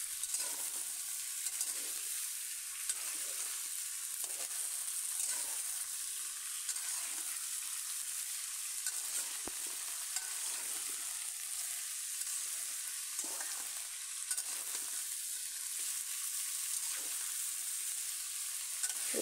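Potatoes and cauliflower fry in oil with steady close sizzling, as a spoon stirs them at intervals. No salt or turmeric has been added yet, and no one speaks.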